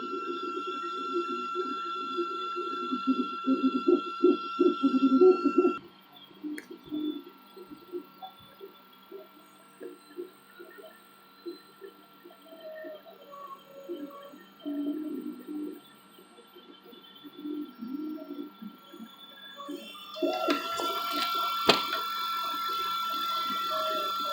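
An old i2 mk1 3D printer at work, its stepper motors whirring and buzzing in changing pitches and short bursts, with a quieter stretch in the middle and a harsher high whine near the end.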